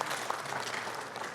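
A short, fairly soft burst of audience applause during a science talk event, a brief rattle of clapping hands lasting just over a second with no speech on top.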